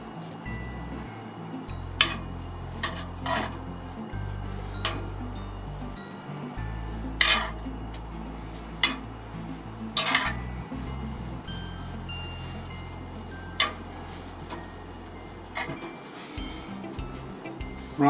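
Winter stew with coarse pepper stirred in a pot, with scattered spoon clinks and knocks against the metal over a low hum, quiet and close, and soft muffled speech underneath.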